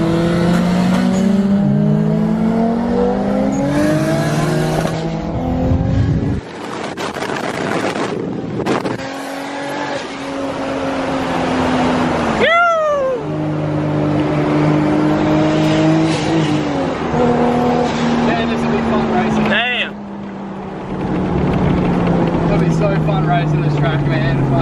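A Toyota Caldina engine idles and revs at a car show, its pitch rising and falling over several throttle blips, loud and close, with a person talking over it.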